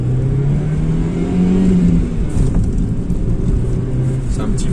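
An Audi 80 B4 with a 2-litre 90 hp engine accelerates from inside the cabin, a loud droning engine note rising gradually in pitch, with some talk heard over it.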